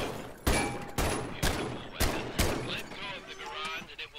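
Rifle shots from an M1 Garand in the video game Medal of Honor, five sharp cracks spaced about half a second apart, each one loud and close with a ringing tail.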